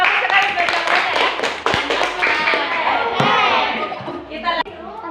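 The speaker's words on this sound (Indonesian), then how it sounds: "Oke, kasih tepuk tangan." A small group in a classroom claps for several seconds, uneven and close, with a few sharper taps and a thud, as voices chatter underneath.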